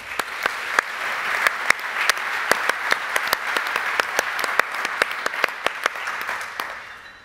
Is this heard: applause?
yes